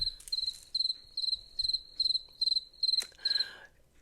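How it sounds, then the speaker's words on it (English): Crickets chirp in steady rhythmic pulses, about eight evenly spaced bursts, clear and fairly close, with no other sounds around them. "Literally crickets."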